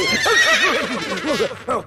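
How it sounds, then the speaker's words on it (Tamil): A horse whinnies in a comic film battle scene, one loud, wavering neigh with rising and falling pitch lasting under two seconds, heard alone. "குதிரைகளே கொண்டளித்து விட்டது."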